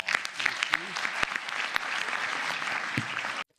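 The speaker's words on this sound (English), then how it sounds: "if we could just give them a round of applause" An audience gives the Budget Committee a round of applause at a public meeting: steady, moderately close clapping from a modest crowd, lasting a few seconds before cutting off abruptly.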